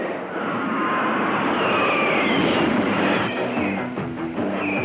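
Engine of the new Rombo spaceship under test, a sustained roaring, whooshing drone that swells and holds steady, with sweeping tonal whines and a pulsing rhythm emerging near the end.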